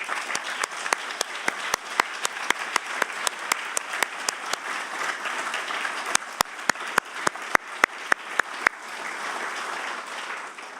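Audience applause at a 2019 State of the County address, a steady dense wash of clapping from a sizable crowd with sharp individual claps standing out, continuing for about eleven seconds.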